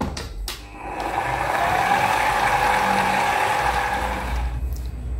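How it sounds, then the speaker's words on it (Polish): An electric mixer whirs steadily at low speed, beating a kilogram of quark into whipped cream for a no-bake strawberry cheesecake; the loud, even motor drone runs unbroken for several seconds with no talking. "Miksuję na małych obrotach."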